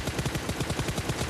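Rapid automatic gunfire in a shooter video game, a quick regular burst of about a dozen loud, close shots filling the short clip without any voices.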